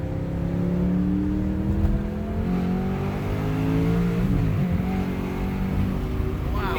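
A Ferrari 4.2 liter V8 accelerates onto a highway, engine pitch climbing steadily through the revs with a brief dip at a gear change before rising again, loud and close from inside the car.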